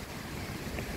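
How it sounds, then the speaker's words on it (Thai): Wind blows outdoors toward evening as a steady, broad rush that buffets the microphone for about a second. No one speaks. "เบิ่งลมนะครับ"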